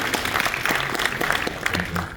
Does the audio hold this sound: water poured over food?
no